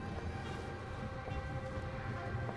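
Low steady rumble of the Doom Train in Bayonetta 3, a continuous dense mechanical drone with faint horn-like tones, moderately loud and unbroken throughout.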